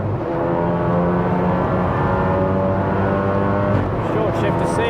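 A 500 BHP big-turbo MK7 Golf R lapping a race circuit, its engine a loud, steady, close drone holding high revs, with a brief gear-change dip near the end.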